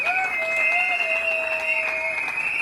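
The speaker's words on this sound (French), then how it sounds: "Applaudissez pour le deux." Steady applause from a crowd at a civil wedding ceremony, with a sustained whistling or droning tone running over the clapping throughout.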